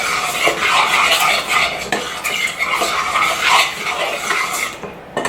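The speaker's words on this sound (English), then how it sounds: "I'm going to give it a little bit of a stir." Spoon stirring a homemade marshmallow mixture in a pot, a close run of repeated scraping and clinking strokes against the pot, steady and loud without talk.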